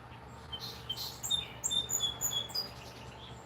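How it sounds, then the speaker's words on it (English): Several short bird chirps and tweets ring out at moderate distance over a quiet background, clustered in a light irregular sequence lasting a few seconds. "To listen to that bird so well."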